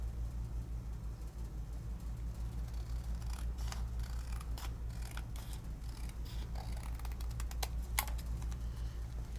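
Paper trimmed by hand with scissors during card-making matting, heard as quiet, irregular snips and crisp paper rustles over a low steady hum, with no talking.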